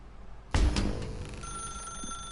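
Telephone ringing in the video game The Stanley Parable Ultra Deluxe: after a quiet moment a loud electric bell rings sharply once, then its tone hangs and fades with a steady hum behind it.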